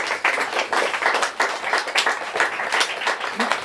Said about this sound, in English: I know it's confusing to clap